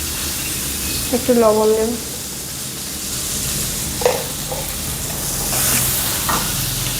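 Onions fry in hot oil in a pan for methi chicken, a steady sizzle with brief stirring clatter, and someone talks over it.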